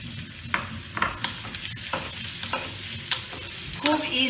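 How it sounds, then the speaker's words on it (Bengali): Onion frying in two teaspoons of oil on a gas stove for egg lababdar, a steady close sizzle punctuated by repeated scraping stirs, no speech. "এবার আমি পেঁয়াজটা ছেড়ে দেবো।"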